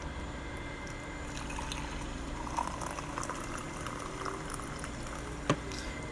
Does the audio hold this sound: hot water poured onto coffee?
yes